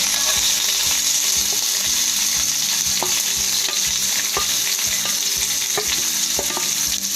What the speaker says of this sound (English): You have to saute onions till they are golden brown in color.